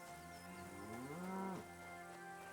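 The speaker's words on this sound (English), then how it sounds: "Stupid cow." A cow moos once, a long rising-then-falling low call heard fairly close over quiet outdoor ambience in the medieval role-playing video game Kingdom Come: Deliverance 2.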